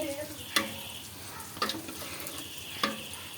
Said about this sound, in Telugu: బెండకాయ ఫ్రై కూడా పక్కన అలా వేపించుకుంటున్నాం ఫ్రెండ్స్